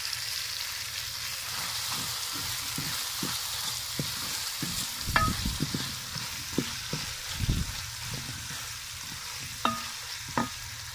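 Cumin seeds fry for aloo bharta with a steady close sizzle of hot oil, broken by scraping stirs of a spoon in the pan, and no talking.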